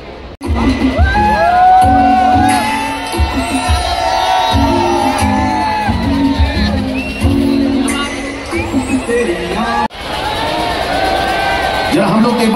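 A huge outdoor crowd at a singer's stage show in the VIP area roars and whoops continuously, loud and close, with voices shouting over the dense hubbub.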